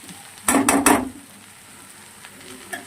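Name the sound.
okra and onions frying in a pan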